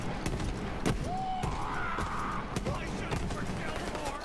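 Boom Sickle gun in Borderlands 3 firing explosive rounds, several sharp blasts and booms scattered over a busy game mix with a brief rising whistle, moderately loud.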